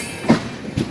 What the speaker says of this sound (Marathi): आज इकडं फिरायला बघा ट्रेन